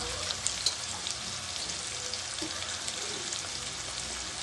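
Mustard seeds, onion and green chillies fry in oil for vegetable rava upma, giving a steady moderate crackling sizzle with a few tiny pops early on.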